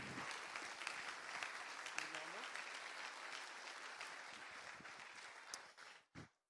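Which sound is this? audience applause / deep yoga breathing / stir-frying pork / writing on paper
audience applause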